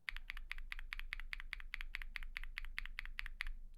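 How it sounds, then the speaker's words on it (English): A stock Durock POM linear mechanical keyboard switch is pressed repeatedly in a fast, even rhythm, about eighteen crisp close clacks with a faint scratchy edge, alone with no talking. "if you listen closely to the stock version of Durock POM, you can hear there's ever so slight hint of scratchiness in the sound when I press it"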